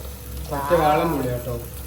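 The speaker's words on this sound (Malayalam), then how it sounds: "പുളി വെള്ളം ഒഴിച്ചു കൊടുക്കുകയാണ്" In a Kerala home kitchen, tamarind water is poured into freshly ground curry paste in a pan. The result is a brief, close splash and sizzle that rises and fades within a second or so.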